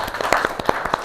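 Students clap for group 1 in a classroom, a steady run of sharp overlapping claps with no speech over it.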